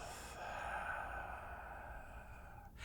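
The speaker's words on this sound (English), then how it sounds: "out through the mouth." A long, steady exhale through the mouth during a guided breathing exercise, close and soft, lasting nearly three seconds before it tapers off.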